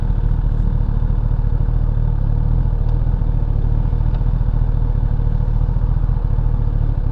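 A 2016–2018 Kawasaki ZX-10R motorcycle idles loudly and steadily at close range, and a couple of faint mechanical clicks from the shifter sit over the engine's rumble.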